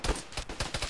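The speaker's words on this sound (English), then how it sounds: "I just got shot." Rapid gunfire in a ShackTac military game, several sharp shots in quick succession at moderate loudness, close by and with no talking.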